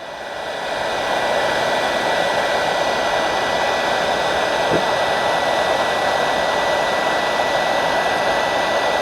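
A heat gun blows hot air onto plastic tubing, a steady, loud roaring whoosh that holds constant for several seconds after it starts, with no talking.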